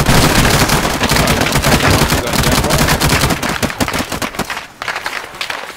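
Dense ArmA 3 gunfire, a rapid barrage of overlapping shots and bursts that stays loud and continuous, then thins toward the end into scattered separate cracks.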